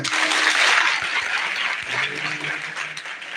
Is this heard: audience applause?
yes